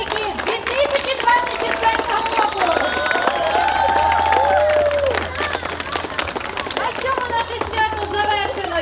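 An audience applauds graduates of the Dmytrivka lyceum, a crowd clapping and cheering loudly, with children's voices and chatter mixed in.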